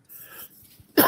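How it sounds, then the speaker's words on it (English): A single sharp cough bursts out at the very end, close and loud, after a short stretch of faint breathy noise. "I'm going to cough again"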